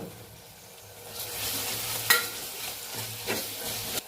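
Ginger paste frying with mint and coriander for a simple mutton curry, a steady sizzle that swells as the pan is stirred, with repeated spatula scrapes and a sharp metallic tap midway, no speech.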